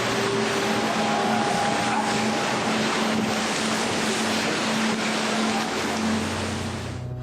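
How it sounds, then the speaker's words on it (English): Ocean waves surge in during a tsunami, a loud, continuous roaring wash of water with a steady low rumble throughout. "Look at the waves coming."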